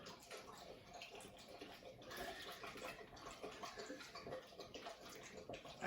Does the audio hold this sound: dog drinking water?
yes